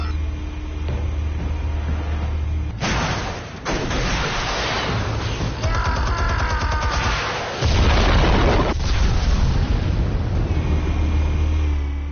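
Explosives detonate in Batman: The Telltale Series, deep booming blasts and rumbling debris rolling over a low drone, loud and sustained with shifting bursts and no voices.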